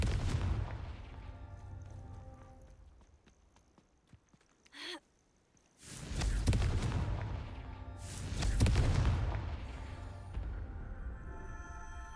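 Two loud, rumbling fiery blasts from the Confringo spell in the video game Hogwarts Legacy, each a booming eruption that slowly fades, with quieter game sounds between them.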